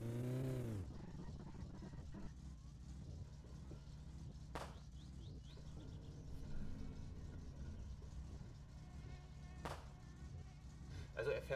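A car in the video game My Summer Car struggling to pull away, its engine droning and straining unevenly with buzzing, rattling noise and a couple of brief sharp clicks, no voices.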